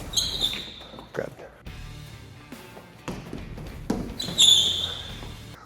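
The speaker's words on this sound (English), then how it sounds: "The way your shoes sound, they're squeaking like a basketball shoe." Shoes squeak sharply a few times against a warped wall during ninja obstacle training, short high chirps amid thumps of footfalls and hits on the wall.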